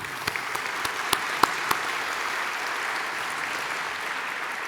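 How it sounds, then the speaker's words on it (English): An audience at an architecture awards ceremony breaks into sustained applause, a dense, even wash of clapping filling the hall with a few sharper individual claps standing out near the start. "I think a round of applause"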